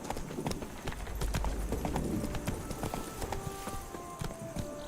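Roach, the horse in Witcher 3, gallops at a steady quick clip-clop rhythm of hoofbeats, close and moderately loud over low ambient game sound, with no talking.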